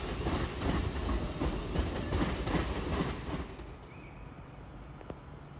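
A train rolls through Crewe station on the West Coast Main Line with a steady rumble and clatter of wheels on track, then the noise thins as it moves away and a faint tone lingers.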